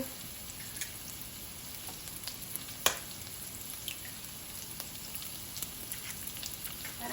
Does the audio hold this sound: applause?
no